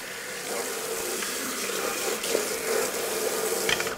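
Running water from a tap rinses juice foam off the screen of a vegetable juicer, a steady close splashing hiss that holds evenly throughout with no talking.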